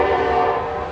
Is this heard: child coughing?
no